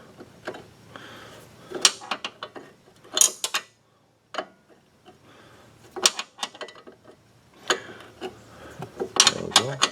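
A ratchet wrench works on the 18 mm control arm retaining bolts of a 2007 Pontiac G6, giving bursts of rapid metallic clicking and clanking with short pauses between them, close and clear.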